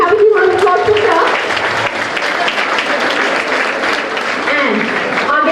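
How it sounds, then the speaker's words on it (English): Hospital audience applauding a neonatal and pediatric consultant doctor at the opening of a mother and child care unit, loud sustained clapping from a crowd with a voice speaking over it at the start and end. "Can we have a few rounds of applause for her?"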